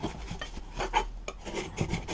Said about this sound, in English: And while you're at it, just give that a little clean, just scrape it.